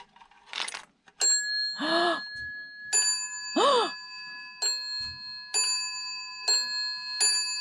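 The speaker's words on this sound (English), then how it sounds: "And we've got the little bell." A small brass bell on an old bell box with aged cordage rings repeatedly, each strike leaving bright sustained overtones that decay, with soft handling noise and murmurs between strikes.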